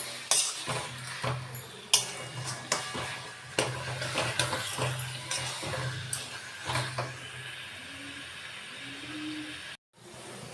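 Ground chicken paste is stirred and sautéed in a pan with no water added, giving repeated scraping and clinking utensil strokes over a soft, steady sizzle, close and without talk.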